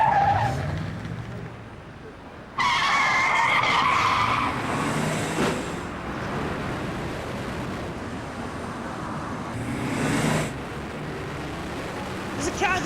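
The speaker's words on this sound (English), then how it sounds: "There's a car gone down that ramp, block his exit!" A getaway car speeds down a ramp at a depot during a robbery, its engine roar and skidding tyres bursting in loud and close after a quieter start, with a rushing wash of noise and a second surge near the end.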